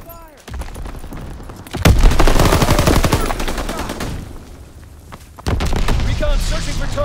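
Call of Duty WW2 multiplayer gunfire comes in loud bursts of rapid automatic shots, with booming impacts after a quiet start and a second heavy burst near the end, under radio-style voice callouts.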